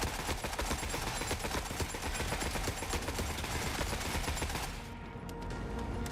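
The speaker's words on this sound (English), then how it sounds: "Freaking shotguns." Dense, continuous gunfire from shotguns in the video game The Forever Winter, with rapid overlapping blasts that stay loud for about five seconds, then ease slightly as the barrage thins.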